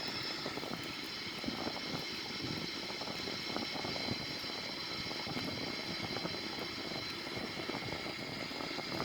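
Boeing 787 engines at takeoff thrust during the climb-out in a flight simulator, a continuous loud jet roar with a steady high whine and no talk.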